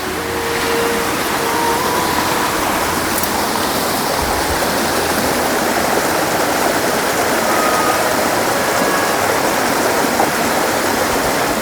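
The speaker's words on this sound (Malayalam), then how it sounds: "ഇത് കണ്ടോ ആ ഒരു വെള്ളം കണ്ടോ?" A forest stream in Vagamon rushes with a steady, loud, continuous wash of flowing water that stays even for the whole stretch, with no voices.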